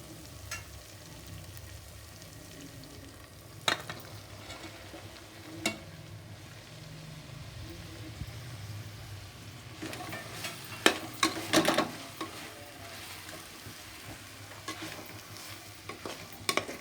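A spoon stirs mushrooms frying in a pan for mushroom biryani, with a low steady sizzle under scattered scraping clacks that bunch into a busier burst of stirring near the end.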